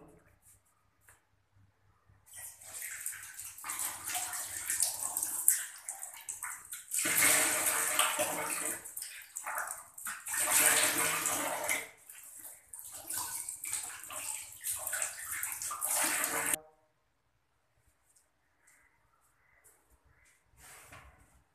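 Running water splashes at a washbasin in a village home as someone washes their face, in several bursts over about fifteen seconds before stopping.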